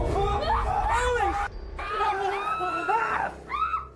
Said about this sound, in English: They all scream as they watch the door stand ajar for a moment before slowly closing again.